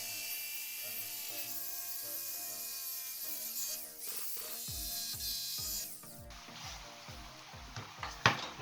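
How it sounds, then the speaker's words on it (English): A jigsaw cutting through timber gives off a faint, steady mechanical buzz with a rattling chatter, then a harsher, rougher rasp as the blade bites into the wood. "we're going to use this jigsaw"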